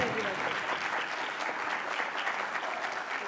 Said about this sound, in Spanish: Pedimos un fuerte aplauso para la primera actriz Verónica Langer.